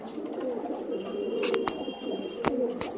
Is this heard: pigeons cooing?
yes